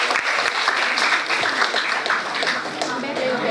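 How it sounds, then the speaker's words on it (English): Steady audience applause at a higher education programme event, a loud dense wash of clapping that runs throughout, with some voices mixed in. "let's give a clap"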